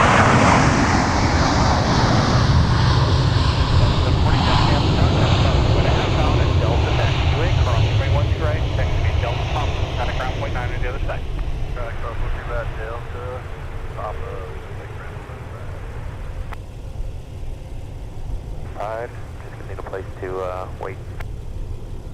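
Airliner departing runway 12 left at Minneapolis–St. Paul airport, a loud broad engine roar that slowly fades as the aircraft climbs away, with radio voices and talk heard toward the end.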